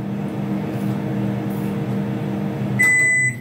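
A microwave oven hums steadily at close range, a low even drone, then a high electronic beep sounds near the end.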